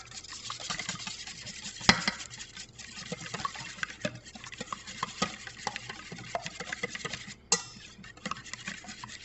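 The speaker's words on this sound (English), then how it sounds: "Into that you add 1 teaspoon of vanilla. And we whisk it together." A whisk scrapes and taps against a bowl as flan mixture with a teaspoon of vanilla is beaten, making irregular close clinks and swishes with a couple of sharper knocks, and no talking.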